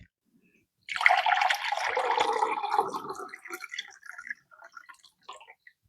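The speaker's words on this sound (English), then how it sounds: "Then I'll add in my very cold water from the fridge." Very cold water from the fridge pours into a lemonade mixture, a splashing, gurgling stream that starts suddenly, runs for about three seconds, then thins into scattered drips.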